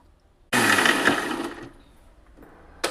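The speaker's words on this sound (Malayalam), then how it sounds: "ഇതും കൂടി മിക്സിയിലിട്ട് അടിക്കാം." Electric mixer grinder whirring loudly as it blends an avocado smoothie with two eggs, starting abruptly, running about a second and then easing down before a short final burst.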